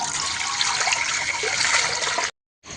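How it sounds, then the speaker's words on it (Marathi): Water pours steadily into a cooking pot set on a wood-fired stove, a continuous splashing rush for about two seconds that stops abruptly, then resumes briefly. "1 जगभर आपल्याला पातेल्यामध्ये पाणी घालून घ्यायचं आहे"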